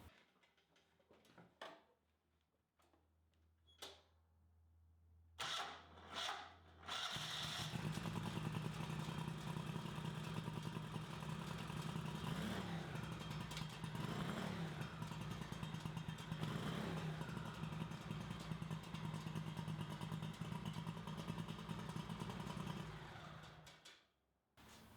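Craftsman GT6000 lawn tractor engine with its governor essentially disabled: a few faint clicks and cranking attempts, then the engine catches and roars steadily and loudly for about seventeen seconds with rising and falling revs before cutting off.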